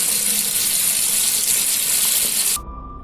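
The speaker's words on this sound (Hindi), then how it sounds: "बाथरूम के अंदर से पानी का टेप वाटर खोलने की आवाज थी" A bathroom water tap gushes loudly and steadily for a few seconds, then cuts off abruptly, leaving only a faint tone.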